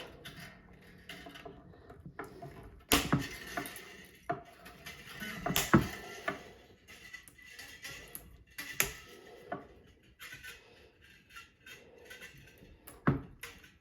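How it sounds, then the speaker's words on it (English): Guitar strings being cut off a guitar, heard as a handful of sharp, separate metallic snaps and clicks spaced a few seconds apart, with quiet handling noise in between and no voices. "So now we can just cut these strings off."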